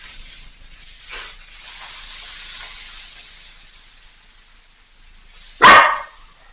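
Soft rain-like rustling from a homemade rainstick drifts in quietly before a dog lets out a single loud, close bark near the end.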